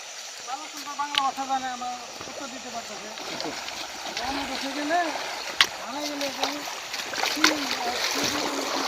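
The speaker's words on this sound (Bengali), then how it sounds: "পানির তো স্রোত বেশি" A fast-flowing hill stream rushes and splashes nearby in the rain, its continuous watery wash running under a man's speech with occasional sharper splashes.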